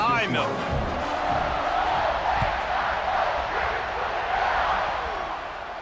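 A roaring football stadium crowd at Ohio State cheers loudly and continuously before a kickoff, a dense sustained wash of voices with a brief shout at the start.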